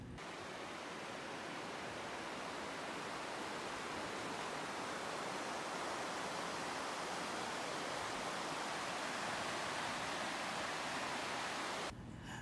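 Water rushes steadily through a ravine, a dense, unbroken hiss-like roar of flowing stream that holds at the same level for the whole stretch before cutting off abruptly at the end.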